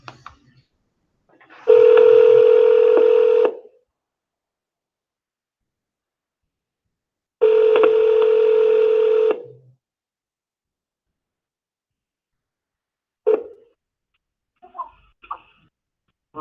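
A phone call rings out with two long, steady ringback tones of about two seconds each, separated by a few seconds of silence, then brief faint sounds as the line connects.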